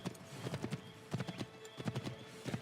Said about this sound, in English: the horse is really not doing very well here